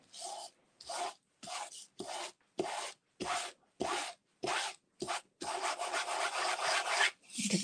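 An ink pad rubbed onto a leaf stamp in quick repeated strokes, each a short dry scuffing rasp with brief pauses, ending in one longer continuous rub, close and fairly soft.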